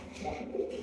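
A pair of Gola fancy pigeons, a red cock and a tiger-marked hen, coo softly in a short burst, the low burbling call faint and close against a quiet room tone.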